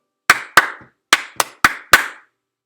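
Six sharp hand claps in a steady quarter, quarter, eighth, eighth, quarter pattern, the middle pair quicker, close and clear with nothing else around them.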